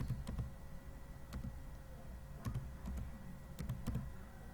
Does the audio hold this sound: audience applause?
no